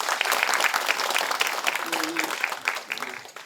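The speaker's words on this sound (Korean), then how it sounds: "박수 한번" Applause from an audience at a regional government announcement event on a cell-cultured food regulatory-free zone in Uiseong County, North Gyeongsang; steady dense clapping throughout, with a faint voice briefly underneath.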